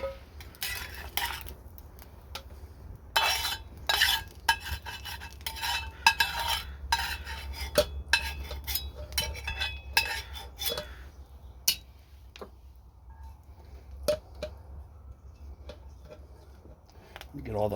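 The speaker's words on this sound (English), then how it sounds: "Get all the food remnant out of the pan there before I start on those potatoes" A utensil scrapes leftover egg and food bits out of a Lodge P10S chef skillet with irregular clinks, taps and scratches, under a low hum and occasional speech nearby.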